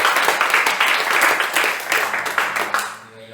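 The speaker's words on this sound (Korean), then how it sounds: "우리 길을 여시는 주님께 영광의 박수를 드립니다." A church congregation at a Sunday service gives a round of applause: dense, lively clapping from many hands filling the room, tapering off toward the end, with a faint voice beneath.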